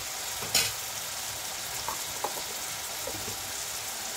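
Water from ground garam masala paste hits a hot frying pan, setting off a steady sizzle with a sharp splash near the start and a few small pops, close and fairly loud.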